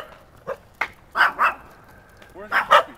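Several dogs out on a morning walk in a park bark in short separate bursts, a few single yips and then quick pairs, close and fairly loud.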